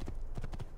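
A horse gallops in the Assassin's Creed 2 video game, its hooves making a quick, rhythmic thudding clop that sounds close and fairly loud.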